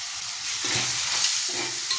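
Tomato and a spoonful of rock salt sautéing in a pan, with a steady soft sizzle and a couple of stirring scrapes, alone and close.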